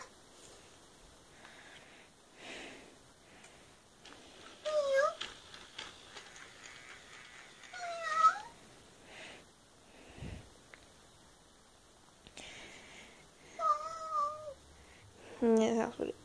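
Electronic cat meows from a FurReal Ginger and White Walking Kitty toy, a few short chirpy calls spaced apart, with quiet mechanical shuffling and low walking sounds between them.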